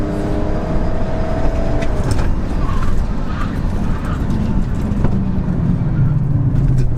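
BMW 330d diesel pulling hard from a launch in a drag race against an Audi A5 3.0d, heard from inside as a loud, continuous engine roar and road rumble with shifting tone, without talk.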